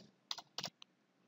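Several quick keystrokes tap on a computer keyboard in two short bursts and then one lighter click, soft and close, with no talking.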